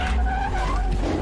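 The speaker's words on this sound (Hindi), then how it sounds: "अपनी गाड़ी भिड़ी और एक्सीडेंट हो गया।" Car skidding with screeching tires, then crashing, in the video game Hello Neighbor 2; a continuous loud, close engine roar with tire squeal running through the whole stretch.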